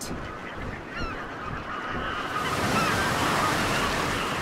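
Mallard ducks calling on the water at a wetland sanctuary, a few honking quacks near the start and middle over a steady rush of wind and lapping water that grows louder toward the end.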